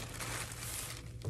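A model rocket parachute being folded neatly by hand, soft crinkling of thin plastic sheet, faint and close, with brief rustles and no speech.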